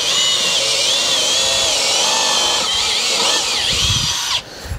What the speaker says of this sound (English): I think the drill's liking it a little bit better now that it warmed.